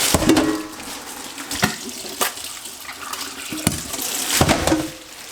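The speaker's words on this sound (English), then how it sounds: "I'm gonna wash everything in the sink" Water runs in a kitchen sink as zucchini and other vegetables are washed, a steady splashing stream broken by several sharp knocks and clunks of produce and dishes against the basin.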